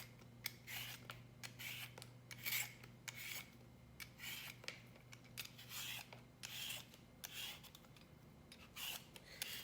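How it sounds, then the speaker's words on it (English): Russet potato and carrot being peeled with a peeler, a series of close, quiet rasping strokes in an irregular rhythm with short pauses between them. "So we will just peel the potato and the carrot."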